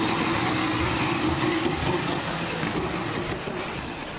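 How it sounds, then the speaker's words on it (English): A Red Bull RB11 Formula 1 car runs during 2015 pre-season testing at Jerez, giving a steady, broadband engine drone that holds for several seconds and fades slightly toward the end, with no voices. "Check out the design of the new Red Bull, the RB11, driven by Daniel Ricciardo, with a special camouflage livery just for testing."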